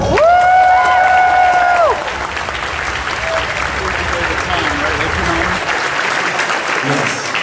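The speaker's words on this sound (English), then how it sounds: "Yes, please, a round of applause" A convention panel audience at New York Comic Con breaks into loud applause and cheers, opening with a brief tonal whoop and then settling into sustained, dense clapping with scattered voices.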